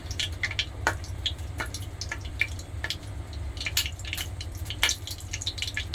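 Hot cooking oil with some water in it crackles and pops in quick, irregular bursts over a low steady hum.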